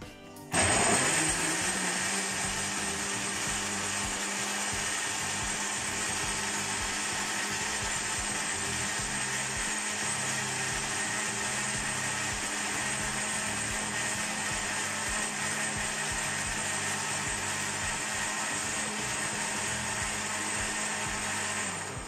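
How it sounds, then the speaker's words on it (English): An electric blender whirs steadily as it blends a blueberry banana smoothie, its motor starting abruptly and holding a loud, even drone with a faint rattle for the whole stretch, with no talking. "you're going to blend our mixture"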